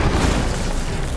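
In Hogwarts Legacy, an Incendio fire spell lets off a loud, dense whooshing roar that stays broad and sustained throughout, with no speech over it.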